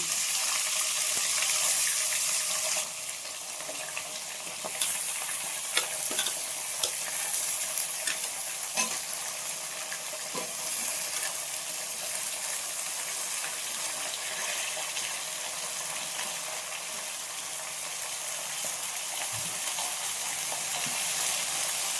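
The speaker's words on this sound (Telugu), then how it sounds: "కాకరకాయ శుభ్రం కడిగి పెట్టుకుని కాకరకాయ ముక్కలు వేసుకుంటున్నాను" Bitter gourd pieces dropped into hot oil with crushed garlic, a loud continuous close sizzle that swells at first and then crackles steadily with occasional stirring taps, no talking.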